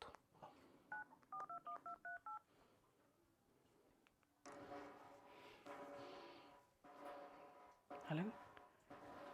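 A phone keypad beeps through a quick run of short, evenly spaced dialing tones, followed by a pause. Then voices speak nearby over room noise.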